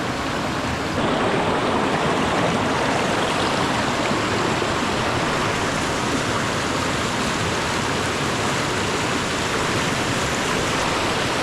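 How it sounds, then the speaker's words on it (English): A river stream in the New Zealand wilderness flows nearby, a dense, steady rushing wash of water that holds constant and fairly loud throughout with no voices. "You can hear the river's just over there."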